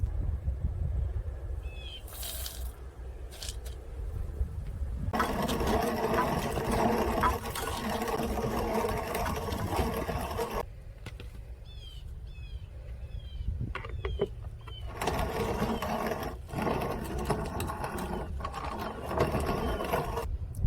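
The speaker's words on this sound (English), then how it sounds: "So let's get going on this cornmeal grinding." A hand grain mill grinds corn into cornmeal with a steady, gritty mechanical whir that runs in long stretches, stops briefly around the middle, then resumes, fairly close and moderately loud.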